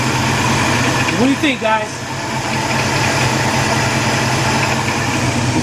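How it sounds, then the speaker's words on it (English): A 1977 Buick LeSabre with a 350 engine idles loudly and steadily, its power steering pump pulley adding a whirring, rattly note, while someone briefly speaks over it. "The power steering pump making that, the pulley making that noise."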